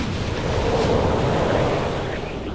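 A magical water spirit in a fantasy game surges through to wash away corruption, a broad, loud rushing wash like heavy surf or wind-driven water that swells and holds steady for a couple of seconds before easing slightly.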